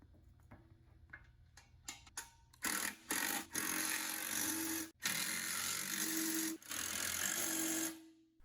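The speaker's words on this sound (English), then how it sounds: "Once all 4 nuts have been started, tighten each completely." Flange nuts being tightened onto bolts under the hood of a BCS tiller while fitting a 30-inch precision depth roller: a series of sharp ratcheting clicks, then a longer stretch of dense, steady mechanical clatter with short pauses.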